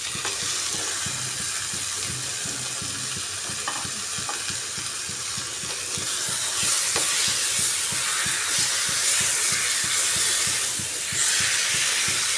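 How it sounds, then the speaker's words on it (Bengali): Marinated chicken hits hot spice masala in a pan and sizzles loudly and steadily, a dense frying hiss with faint stirring scrapes, no voices. "মশলা কষানোর এই পর্যায়ে এসে দিয়ে দিচ্ছি ম্যারিনেট করে রাখা চিকেন"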